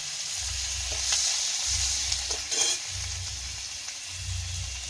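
Whole garlic cloves frying in hot oil in a kadai, a steady bright sizzle throughout with low rhythmic stirring scrapes repeating every second or so, close and alone.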